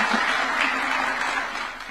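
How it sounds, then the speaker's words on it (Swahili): Steady crowd applause at a State House meeting with Nairobi United FC, cheering the goalkeeper. Dense clapping holds at an even level throughout and tapers only slightly near the end. "Tumpigeni makofi."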